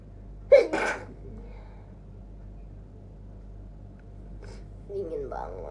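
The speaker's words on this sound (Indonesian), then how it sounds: "Bersin." A single sharp human sneeze bursts out near the start, close and loud, in a quiet room with low steady hum, followed by a long silence before a voice speaks softly near the end.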